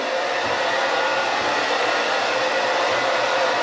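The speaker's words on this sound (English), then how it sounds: "This blow dryer, it sucks." A cheap handheld blow dryer runs continuously at home during a self-haircut, giving a steady, loud, close-up rushing whoosh with no talking.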